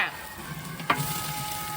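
Food sizzles steadily in a hot pan while a utensil scrapes and stirs, with one brief knock partway through.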